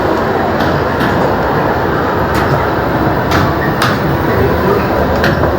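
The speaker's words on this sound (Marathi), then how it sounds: "रेल्वे गेली बाई." A train rolls past at close range, a loud, continuous rumble with rhythmic clacks of wheels over rail joints throughout.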